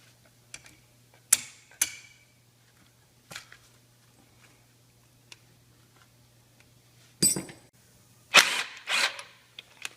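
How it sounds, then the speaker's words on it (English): Four 10mm bolts are loosened from the idler on a Cummins engine in a Chevy rat rod, heard as sparse metallic ticks and short ratcheting bursts under a faint steady hum, growing busier toward the end. "you're going to take this idler off by these 4 10mm bolts"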